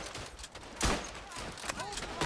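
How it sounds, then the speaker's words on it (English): Bursts of machine gun fire from a Verdun World War I shooter game, a sharp loud volley near the middle with scattered shots and battlefield noise around it. "this is a smart way to fight with the machine gun"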